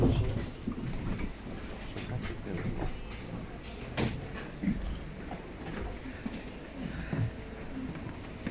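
Tatra T3M tram standing at its terminal stop in Volgograd, with a steady rumbling hum, clunks and rattles of the car and a door, heard from inside the cabin alongside faint voices.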